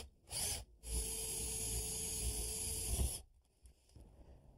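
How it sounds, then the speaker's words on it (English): A power drill bores through house sidewall shingles from outside, a high whining grind in two bursts, a short one and then a sustained cut of about two seconds, close and loud, before quiet. "From the outside, I center the drill into the course of shingles."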